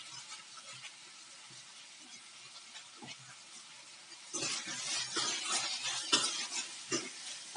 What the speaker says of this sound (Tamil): தக்காளி நல்லா மசியற வரைக்கும் நம்ம நல்லா வதக்கி விட்டுடலாம்.